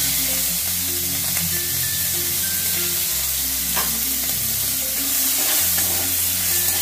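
Chopped onion fries in hot oil, a loud, constant sizzle up close with occasional scraping as it is stirred, and no voices.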